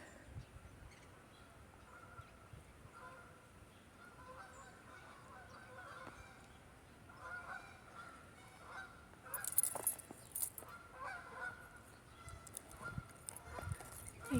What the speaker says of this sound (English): I hear some geese.